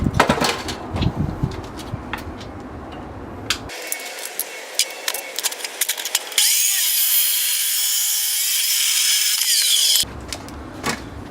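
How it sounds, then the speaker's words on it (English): A power tool cuts a piece of 3-inch square steel tubing in a workshop. Short rattling bursts come first, then a loud, steady, high-pitched grinding cut of several seconds stops abruptly, followed by more clatter. "now we're going to cut a piece of 3-inch square tubing"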